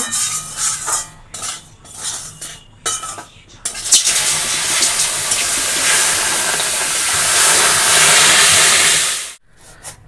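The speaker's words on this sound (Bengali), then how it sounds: "এই যে সুজি লাল লাল করে ভাজা হয়ে গেছে এই যে মা এবারে জল দিয়ে দিবে" Semolina fried to a reddish brown in a pan erupts into a loud, steady sizzle and hiss as water is poured in, after a few seconds of spoon scraping and stirring clatter.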